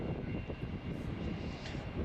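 An airliner, a Turkish Airlines flight arriving at Melbourne Airport, heard as a steady broadband jet rumble and roar at moderate distance, continuous and unbroken through the short stretch.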